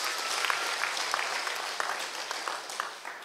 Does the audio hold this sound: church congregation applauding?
yes